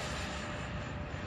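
An E-flite SU-30 RC model jet roars steadily with afterburners lit, a continuous broadband rush heard at moderate distance with no voices.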